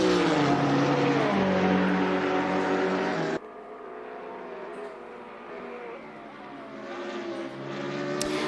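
A Nissan GT-R race car driving in a race, its engine a loud rising whine with shifting harmonics that cuts off abruptly partway through, then a quieter engine note that climbs again toward the end.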